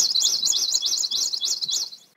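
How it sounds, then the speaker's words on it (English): Garden birds chirp in quick, bright repeated warbling phrases, several calls tumbling over one another close by for about two seconds before fading, with no voices. "Just look at all of the birds now."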